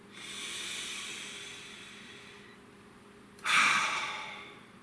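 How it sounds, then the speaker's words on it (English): A person draws a slow, audible deep breath in, then lets it out with a louder, breathy exhale, close and alone. "Nice deep breath."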